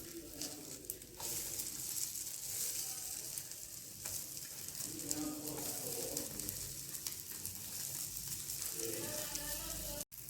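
An onion ring omelette fries in a pan with a steady, close sizzle running throughout, broad and continuous, with faint stirring or scraping touches and no talking over it.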